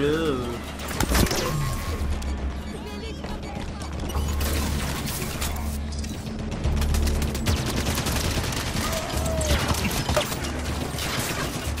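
Rapid enemy turret gunfire in the Halo 5: Guardians game, a dense crackling barrage running throughout under loud in-game mechanical noise, while a voice talks over it.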